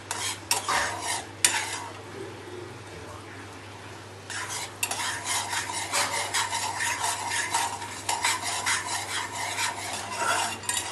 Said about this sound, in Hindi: बीच बीच में हम इसको स्टर भी करेंगे, अच्छे से चलाते रहेंगे जिससे कि वो कहीं चिपका ना रहे